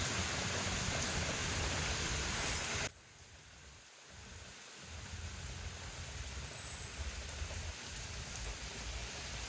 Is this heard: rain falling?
yes